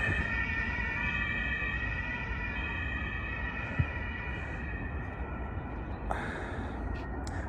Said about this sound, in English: There is the ambulance car.